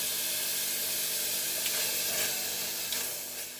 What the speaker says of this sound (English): So right now we are just sauteing it and making sure that it is flavored properly.